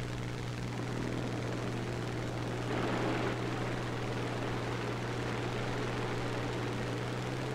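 Bomber engines in the video game War Thunder give a steady, loud, droning propeller hum with a low constant tone, swelling slightly partway through, with no talking over it.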